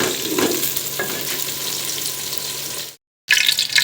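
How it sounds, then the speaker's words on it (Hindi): Okra frying in hot oil, giving a close, steady sizzle that cuts out abruptly near the end before resuming. "ये देखिए भिंडी मेरी फ्राई हो गई है"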